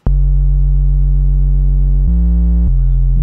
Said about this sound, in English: This is just a sine wave and a square wave, I believe, but on two different instances of Serum.